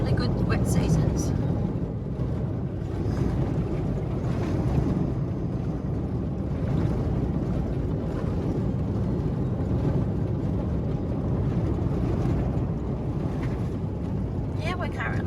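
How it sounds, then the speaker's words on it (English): Steady low rumble of a vehicle driving along a freshly graded dirt road in outback country, with constant road and wind noise throughout and voices talking over it. "we're currently driving on Laos Road"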